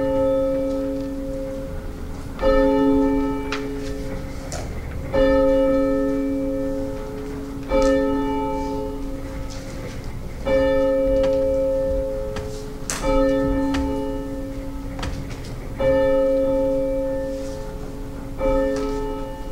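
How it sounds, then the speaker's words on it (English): Church bell ringing before a Sunday worship service, a single bell struck at slow regular intervals of about two and a half seconds, each clear metallic toll ringing out and fading before the next. "we'll have the ringing of the bell followed by our opening hymn"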